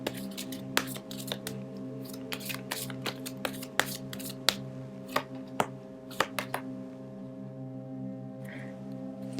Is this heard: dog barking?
no